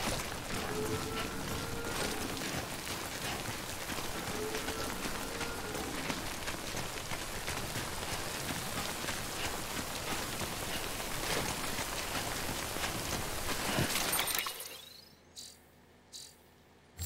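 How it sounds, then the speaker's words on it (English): Steady rain falling in a video game makes a continuous hiss with insect-like chirring for about fourteen seconds, then cuts off abruptly into near silence. "Raining again."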